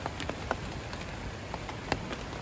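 Rain falling in a Panama forest, a steady soft patter with scattered sharper drop impacts on leaves, fairly close and quiet, with no talking.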